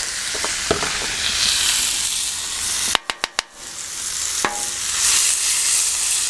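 Chicken and steak sizzle loudly and steadily on a hot Blackstone griddle, a dense close hiss with a few sharp scrapes and a quick run of four clacks of a metal spatula midway.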